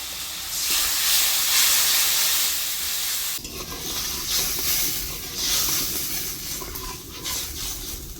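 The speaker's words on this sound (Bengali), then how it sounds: "জলটা টকবক করে করতেছে।" Hot water boils in a cooking pot with spiced oil for a Bengali aair fish curry. It gives a close, steady bubbling hiss that is loudest at first, then settles softer and more uneven.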